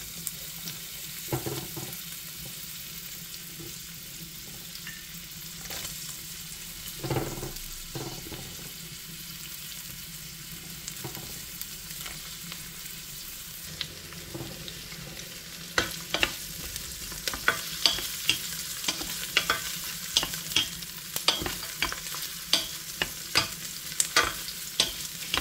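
Onions frying in a hot pan for chicken apritada, a steady sizzle with repeated scraping and clacking as they are stirred, growing busier and louder in the second half, no voices.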